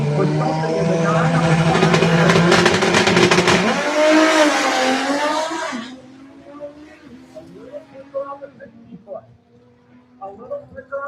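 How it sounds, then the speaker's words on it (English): A Dodge D150 truck with a turbocharged Hurricane six-cylinder engine drag racing, a loud roaring run that fades after about six seconds, followed by distant engine noise and track ambience. "This is a Hurricane 6-cylinder turbocharged Dodge power plant in the D150."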